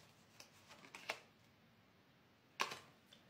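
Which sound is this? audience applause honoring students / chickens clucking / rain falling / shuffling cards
shuffling cards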